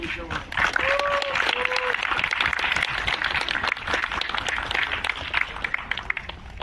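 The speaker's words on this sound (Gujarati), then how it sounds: "તાળી" Audience applause at an event for the Gujarati suspense thriller film 'Maunam', a dense, steady wash of many hands clapping close by that fills the whole stretch, with a brief tonal sound near the start.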